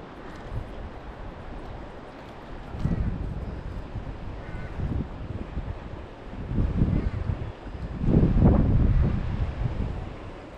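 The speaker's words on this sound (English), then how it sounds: "The wind's no good." Wind buffets the microphone outdoors by the water during a fishing trip, a steady rushing roar that swells in heavier gusts, loudest near the end.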